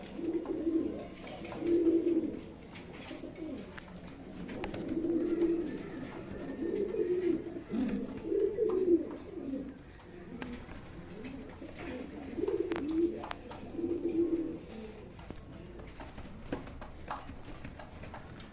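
Pigeons kept in a large cage for sale coo repeatedly nearby, soft low rolling calls that come in bursts over faint background clatter.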